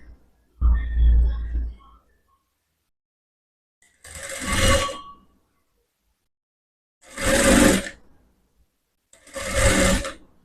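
A sewing machine stitching a blouse runs in three short, loud bursts separated by quiet pauses, each a dense mechanical whirr, after an opening stretch of louder sound.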